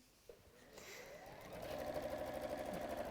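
A sewing machine stitches a fabric pocket between marked dots, its steady mid-pitched whir building and running continuously in close, with a faint click near the start.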